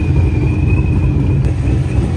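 A car engine rumbles steadily up close at a TX2K street race, with a thin high whistle held above the low drone.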